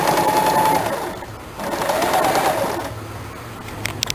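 Home sewing machine running steadily while stitching around the bottom flare of a kurti, a continuous close whirring rattle with a brief slowdown at the turn before resuming.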